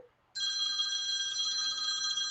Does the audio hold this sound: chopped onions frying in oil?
no